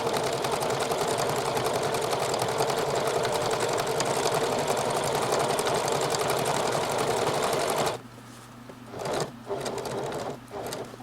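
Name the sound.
sewing machine triple stitch top stitching fabric pocket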